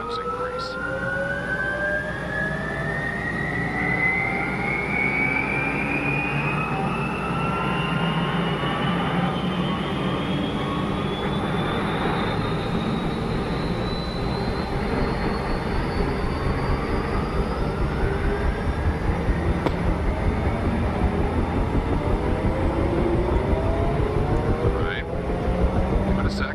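Helicopter in the Arma Reforger game spooling up, its turbine whine climbing steadily in pitch over a constant low rumble, loud and sustained throughout, with occasional game sounds layered in.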